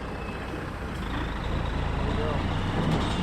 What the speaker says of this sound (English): Here comes like a truck right now. Big semi.